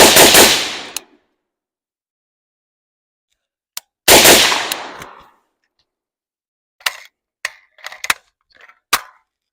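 Two sharp, loud muffled bursts of suppressed gunfire a few seconds apart, each decaying quickly, followed by several fainter clicks and clinks.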